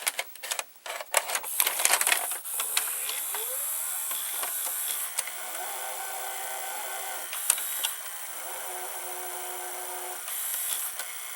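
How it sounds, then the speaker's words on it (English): A Toshiba M751 VCR takes in a videotape: clicks and clattering loading mechanics, then steady whirring motor hum with brief mechanical clunks, close up and alone. "now I'm going to insert a tape in the VCR"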